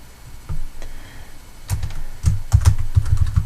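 Close-up typing on a computer keyboard while entering values into a spreadsheet for a graph, with a few scattered keystrokes followed by a faster burst of clicks.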